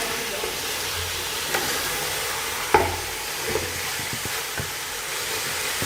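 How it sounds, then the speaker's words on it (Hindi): A spoon stirs beef kachnar frying in a pan, giving a steady sizzle and hiss with occasional scrapes and clinks of metal against the pan, close up and with no voices. "अच्छी तरह से चम्मच हिला लें। इसको हमने 10 मिनट तक तकरीबन फ्राई करना है।"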